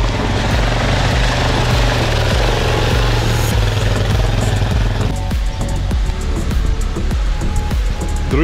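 Off-road tractor engine running loud and close, a steady low droning rumble that shifts in tone partway through, with no voices.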